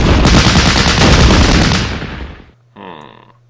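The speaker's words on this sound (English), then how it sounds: "let's give it some suppressive fire" Loud, dense volley of suppressive gunfire from Italian-front infantry in the video game Battle Academy, roaring continuously for about two seconds and then fading out, followed by a short electronic tone.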